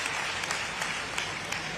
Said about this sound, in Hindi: ताली जोर से बजाएं